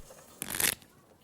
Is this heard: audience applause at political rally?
no